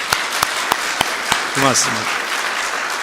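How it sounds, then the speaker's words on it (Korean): Scattered, spaced claps ring out from a church congregation at a Korean Sunday service, a handful of sharp separate hits rather than a full ovation, followed by someone speaking briefly. "하나님 앞에 다시 한번 우리 영광의 박수 한번 합니다"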